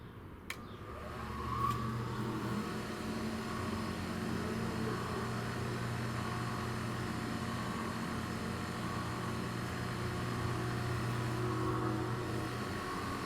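A restored Thunderbolt siren runs steadily after a sharp start, its sustained tonal drone holding a constant pitch with a layered hum, loud and continuous with no voices.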